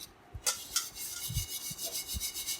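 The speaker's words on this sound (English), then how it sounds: "just try to rub it like this only with the help of a sponge or a scotch brite" A burnt frying pan is scrubbed with a sponge or scotch brite pad, giving close, quiet rasping rubs in an uneven back-and-forth rhythm of short strokes.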